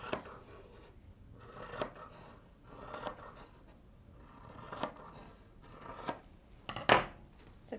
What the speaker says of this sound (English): then I fold it over and I cut